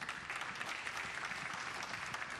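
Spectators at a snooker match in Rotterdam applaud a good shot, a soft but steady patter of many hands clapping from start to finish, heard at a distance.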